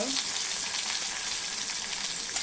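Curry leaves, turmeric and asafoetida sizzle steadily in hot oil with green chillies, a continuous close, bright frying hiss throughout with no voices.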